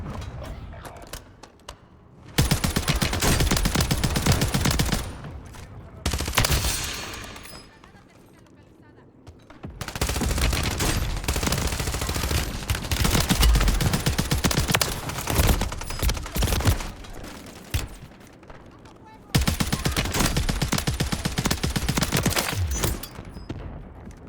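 Bursts of automatic gunfire from the video game Warzone come in three long, dense volleys separated by quieter gaps, loud and close.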